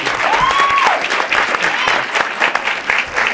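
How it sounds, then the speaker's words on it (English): Audience applause on a podcast episode rises loudly and steadily across the room as a sustained wash of clapping, with a brief whistle-like tone near the start and scattered cheers mixed in. "you have no idea what that applause means"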